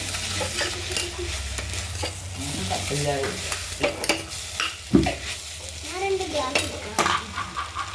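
Ginger, garlic and green chilli sauté in oil for a beef stew, making a steady sizzle close at hand. Repeated scraping of a spoon against the pan and small utensil clinks run through it, with no voices.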